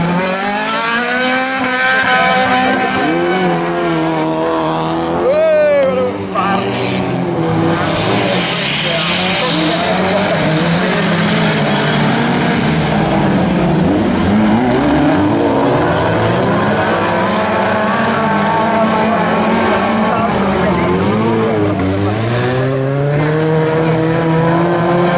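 Race cars roar past on a circuit during a championship race, engines droning loudly and continuously with rising and falling pitch through an S-bend and turn 3, while a commentator talks over them throughout.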